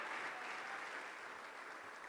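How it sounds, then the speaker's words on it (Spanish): A church congregation claps together in a steady, dense wash of palms, fairly faint and distant, sustained evenly throughout with no voices rising above it. "Dele fuerte las palmas al bendito Señor."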